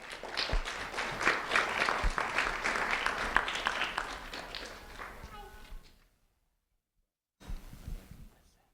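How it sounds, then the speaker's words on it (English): A round of applause for a second-grade student being honored by a county sheriff's office fills most of the moment with dense clapping mixed with talk, then stops; a short burst of voices follows after a pause. "a round of applause for Xander Nunez"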